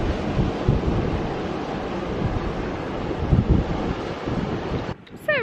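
Water roaring steadily through a channel at Loe Bar in Cornwall, a dense continuous rush mixed with wind buffeting the microphone, ending in a brief dip near the end.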